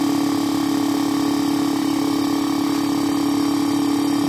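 A Gerard Morin pump motor powered from 12 volts hums steadily with a strong constant tone and even mechanical whir, close and unbroken throughout.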